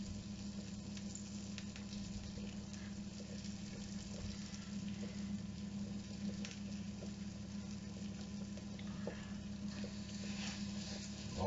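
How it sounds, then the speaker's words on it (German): Liver frying in a hot pan, a steady, even sizzle throughout, moderately close and fairly quiet with a low hum beneath, no voices. "Und dann werden wir die Leber in der heißen Pfanne von beiden Seiten etwa 2-3 Minuten anbraten"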